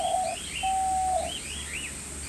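Wild birds near a stream and hillside pines around a city, giving a few short chirps and a thin whistled note, fairly faint over steady outdoor background hiss.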